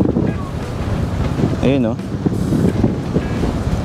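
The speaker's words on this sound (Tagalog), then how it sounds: "Masyadong malakas yung hangin, nahihirapan tayo." Strong wind over Manila Bay near a land reclamation site buffets the microphone with a constant roaring rush, and a voice briefly speaks over it.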